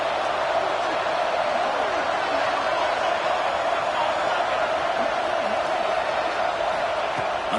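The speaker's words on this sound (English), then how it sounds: "Listen to the crowd energy here in the early going." Stadium crowd at a football game, a steady dense roar of cheering and murmur filling the space throughout, loud and continuous with no pause.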